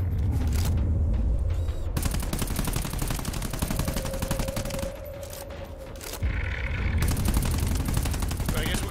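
Rapid bursts of automatic gunfire in the co-op shooter GTFO aimed at a red sack, loud volleys that break off and resume, with a quieter pause in the middle.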